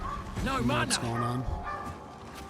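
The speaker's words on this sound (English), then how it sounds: "Sorry about the dog. She's really excited." An excited pet dog yips and whines in short bursts indoors, partly overlapped by a person speaking nearby.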